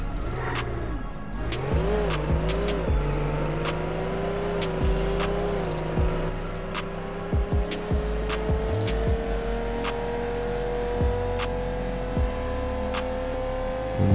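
Striker car from the Roblox Jailbreak game driving at speed, a steady engine drone with a rising tone throughout, plus short tire squeals and bumps near the start, loud and continuous with no talk.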